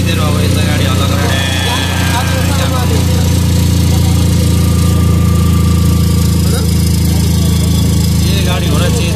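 A vehicle engine runs loudly during a ride, a steady low drone with strong vibration and harmonic hum, as someone talks over the noise.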